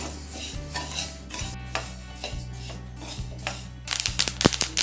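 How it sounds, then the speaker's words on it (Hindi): Dry sesame seeds rustle and crackle as they dry roast in a pan, with occasional scraping stirs, the popping growing sharper and busier toward the end. "हमारे तिल भुनने लग गए और चट चट की आवाज आ रही होगी आपको"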